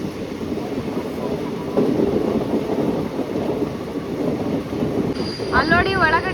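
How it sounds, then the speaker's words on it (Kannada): A passenger train running between Hosapete and Harihar via Davangere picks up speed with a loud, continuous rumble of wheels, and a brief warbling whistle-like tone rises near the end. "ನಮ್ಮ ಟ್ರೈನ್ ಅಂತೂ ರೊಚ್ಚಿಗೆದು ಹೊಡಿತಾ ಇದ್ದಾನೆ."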